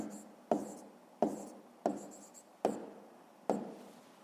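Handwriting on paper while working a fifth-grade maths exercise: five distinct scratchy pen strokes at an even rhythm, each a sharp onset fading quickly, close and alone with no talk.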